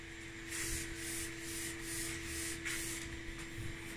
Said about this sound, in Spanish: tuvimos que lijarla nuevamente hasta borrárselos